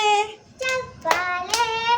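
Children in a classroom clap their hands a few times in step with a sung chant; three sharp, close claps land between the words.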